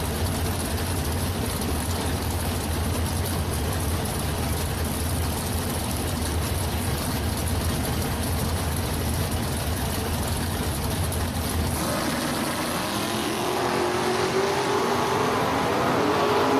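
Drag race cars idling at the starting line, an '81 Oldsmobile wagon and an all-Pontiac machine, a steady loud low engine rumble that shifts in tone near the end, with no talk over it.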